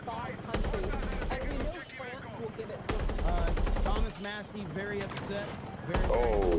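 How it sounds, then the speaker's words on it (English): Bursts of automatic gunfire in a video game, loud and sustained with short breaks, rattling in rapid strings while a voice talks over the shooting. "Oh shit, I nearly got sniped."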